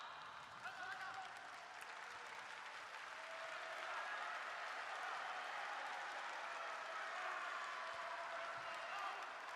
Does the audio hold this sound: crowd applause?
yes